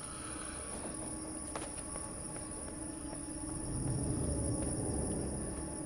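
A train rolls past in the dark side-scrolling game INSIDE: a steady low rumble of wheels on rails, with faint metallic clanks and a swell in loudness toward the end, no voices.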